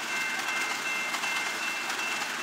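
A train rolls past a trackside defect detector on the main line at about 69 mph, a steady roaring rush of wheels and rails with faint rhythmic clatter, continuous and fairly near.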